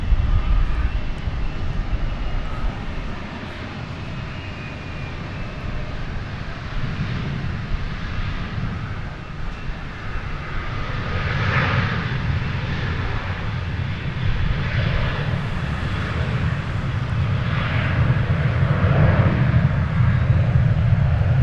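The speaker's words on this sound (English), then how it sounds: "That big old jet just touched down from Little Rock" A big jet airliner touching down on a runway at DFW airport, a loud, steady engine roar that swells and holds close by for the whole stretch, with no talk over it.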